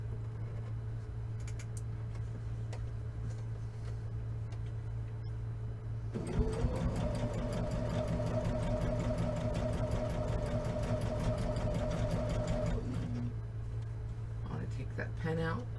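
A sewing machine stitches a tote bag in a steady run of about seven seconds, starting and stopping abruptly against a constant low hum.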